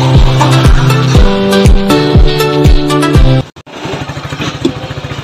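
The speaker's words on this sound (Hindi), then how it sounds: "तो फिर भाई ये देखो बाइक चला रहा है मामा की।" A motorcycle close by, revving with a strong rhythmic engine putter, then cutting off abruptly before a softer, fading idle chug as it pulls away.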